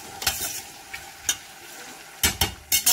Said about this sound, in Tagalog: mag-prito ako nitong fish bone